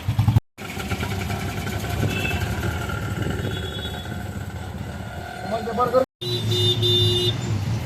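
An auto-rickshaw rides through Pune traffic with a steady engine drone and road rumble throughout, interrupted by two brief cuts, while car horns toot now and then.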